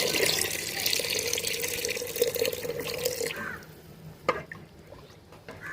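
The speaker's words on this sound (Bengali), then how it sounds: "দিয়ে দিচ্ছি পরিমাণ মতো জল।" Water poured into a pot of chicken khichuri: a loud, steady close pour for about three seconds, then stopping, followed by a few faint drips and small clinks.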